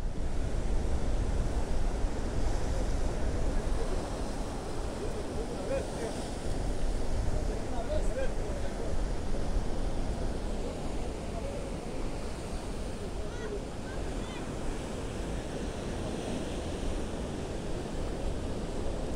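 Ocean waves breaking on a rocky shore during a shore fishing tournament, a steady loud wash of surf with wind rumbling against the microphone, and people talking faintly over it.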